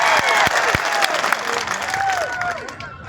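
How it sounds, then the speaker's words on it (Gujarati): A crowd at a political gathering bursts into loud, sustained applause welcoming a speaker, with scattered cheers and whistles, fading slightly toward the end. "આપણે એમને જોરદાર તાળીઓના ગણગણાટથી એમનું સ્વાગત કરી લઈએ."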